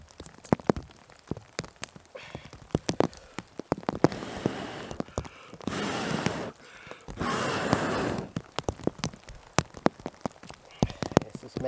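Rain falls outdoors during an attempt at fire-making in wet conditions, with soft pattering on surfaces broken by sharp nearby knocks and handling clicks, and a couple of steadier hissing bursts in the middle.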